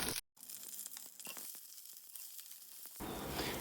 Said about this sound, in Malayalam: 1 ടീസ്പൂൺ കടുക് ഇട്ടൊന്ന് പൊട്ടിക്കും.